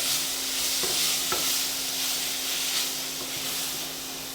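Bitter gourd fries and is stirred in a pan for a traditional Maharashtrian sweet-sour dish, with a continuous close sizzle broken by a few light spatula scrapes.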